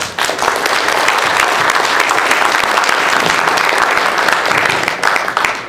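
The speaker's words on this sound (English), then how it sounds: "Let's give him a round of applause." Loud, steady applause from an audience at a San Angelo Tea Party event welcoming Senator Charles Perry, dense clapping sustained evenly for about six seconds and tapering slightly at the end.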